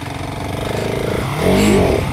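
A motorcycle ridden while practising wheelies accelerates toward about 30 with a close, steady engine drone that rises in pitch and loudness near the end, with no talking over it.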